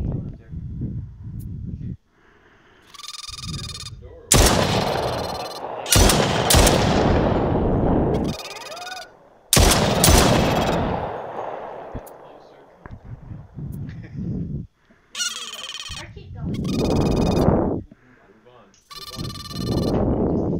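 Bursts of rapid gunfire from a video game ring out in loud, staccato volleys separated by short pauses, with a person talking in between.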